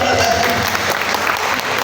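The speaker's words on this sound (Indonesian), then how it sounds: "kita berikan tepuk tangan" A church congregation claps at a morning service, with close, lively clapping and voices mixed in.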